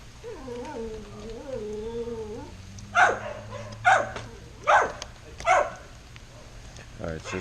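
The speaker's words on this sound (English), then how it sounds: "Shut your goddamn dog up, Red." A dog barks four times at steady intervals, loud and fairly close, at a fishing spot where tautog are being filleted; a voice hums or talks beforehand.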